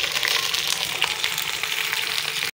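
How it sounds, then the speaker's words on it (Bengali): Beans fry in a karahi, a loud, dense, continuous hiss of sizzling oil close by that cuts off abruptly near the end. "সিমগুলো ভাজছে।"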